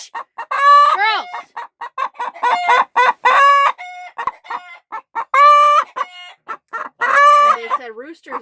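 Loud, close hens cluck and squawk in rapid bursts in a chicken coop, with a rooster crowing among them, and a person speaks briefly.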